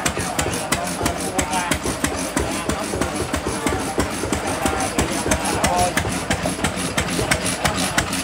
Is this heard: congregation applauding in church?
no